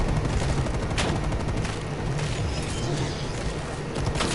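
Steady gunfire in the video game Call of Duty: Cold War Zombies, a dense continuous roar of shots and rattling bursts with no clear gaps, fairly loud throughout.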